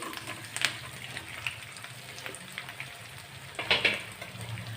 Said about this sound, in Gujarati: રાઈ અને તલ આપણા સરસ રીતે ચટકવા લાગે